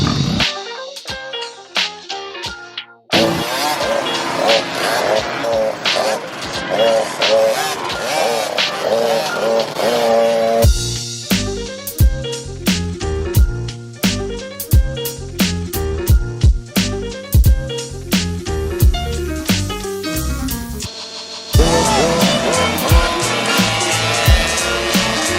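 A cheap two-stroke dirt bike engine revving hard and shifting as it is ridden, loud and close with rising and falling rasping pitch and brief dips between bursts.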